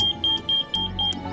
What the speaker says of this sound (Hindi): इस बॉक्स का टेम्परेचर बढ़ रहा है और ये उसी का अलार्म है